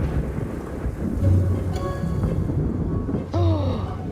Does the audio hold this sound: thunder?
yes